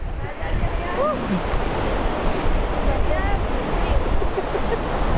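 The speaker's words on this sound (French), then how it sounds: "on n'entend pas bien à cause du vent de la mer" Steady wind roars across an open microphone at the shore, with surf washing beneath and a few faint bird calls above.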